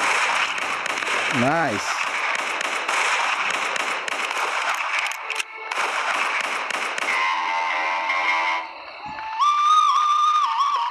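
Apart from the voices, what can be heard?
gunshots in Western Sniper video game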